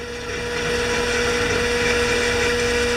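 A hand drill fitted with a 1/8 inch bit bores a pilot hole during an electric-start conversion of a John Deere snow blower, giving a loud, steady motor whine that runs unbroken for about three seconds with no talking.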